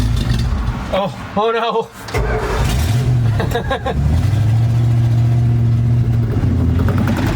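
A 1973 Dodge truck engine idles steadily after its first start, a low continuous rumble running under close talk and brief exclamations from people nearby.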